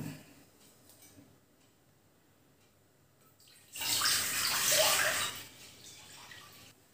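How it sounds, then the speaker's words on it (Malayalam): Water is poured into a pressure cooker sitting on a stove for soup. After a quiet stretch comes a single splashing gush of about a second and a half, close by, which then tapers off. "ഒരു പ്രഷർ കുക്കർ അടുപ്പത്ത് വെച്ച്, പിന്നെ അതിലോട്ട് നമ്മുടെ ഈ വെള്ളം ഒഴിക്കണം."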